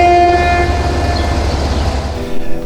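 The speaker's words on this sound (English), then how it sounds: "This is El Campello, where the tram pulls in and the narrow gauge railway takes over." Tram pulling into El Campello station near Alicante, where the tram line meets the narrow gauge railway: a loud, steady low rumble with sustained tonal whines and squeals throughout, growing briefly louder near the end.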